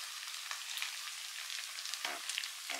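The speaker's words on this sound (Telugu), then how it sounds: "అల్లం వెల్లుల్లి పేస్ట్ కూడా మంచిగా పచ్చివాసన పోయేలాగా వేగాలి" Ginger garlic paste fries for a fish curry, making a faint, thin hissing sizzle that crackles lightly and steadily throughout.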